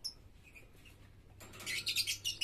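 Small lovebird chirps, faint at first, then a burst of rapid high tweets near the end, with no talking.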